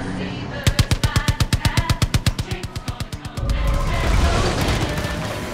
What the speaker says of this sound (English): It's even equipped with machine guns